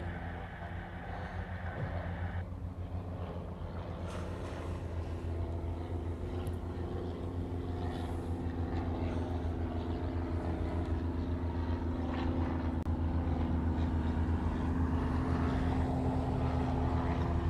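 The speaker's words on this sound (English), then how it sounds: "Parallel runway departures of Cessnas." Cessna light airplanes departing on parallel runways at Honolulu Airport make a steady propeller drone, heard from a distance as a continuous hum that holds level throughout.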